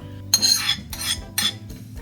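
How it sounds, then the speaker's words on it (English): Melted butter, caster sugar, sour cream, vanilla extract and oil whisked together in a large bowl for lamingtons, with three separate bursts of a whisk clinking and scraping against the bowl, close and fairly loud. "In a large bowl, whisk together melted butter, caster sugar, sour cream, vanilla extract, and oil."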